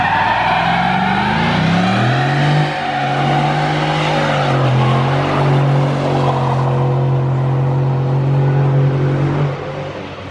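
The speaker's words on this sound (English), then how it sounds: "we're gonna destroy this truck's tires basically" A Ford F-150 pickup does a loud, sustained burnout on a back road, its engine holding a steady high rev while the tires squeal continuously for about ten seconds, easing off near the end.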